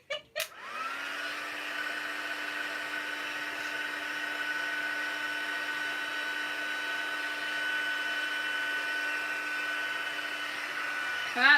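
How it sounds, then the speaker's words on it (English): A heat gun blows steadily across a stamped card, one continuous loud whirring hiss with a clear tonal whine that starts abruptly, holds level for about eleven seconds, and cuts off at the end. "Right, so we'll get the heat gun again."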